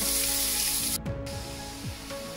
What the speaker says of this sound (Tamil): எண்ணெய் கொதிச்சா பிறகு 1/2 டேபிள்ஸ்பூன் கடுகு, 1 டேபிள்ஸ்பூன் பெருஞ்சீரகம் போடுறேன்